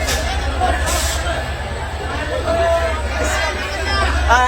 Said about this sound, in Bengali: লোকাল ট্রেন অতিরিক্ত ভিড়।